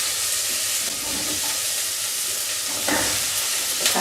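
Carrots and potato cook in a hot pan with a steady broadband sizzle, and a louder burst of scraping and clatter comes from stirring near the end. The sound is close and continuous, and no one talks.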